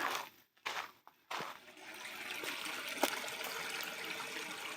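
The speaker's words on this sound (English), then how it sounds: "A nice little creek." A small creek trickles and burbles softly in a steady, moderately close flow, after a few brief gaps and thumps at the start.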